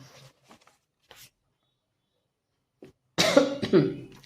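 After near silence with faint rustles, a person with a cold gives a couple of harsh coughs close to the microphone.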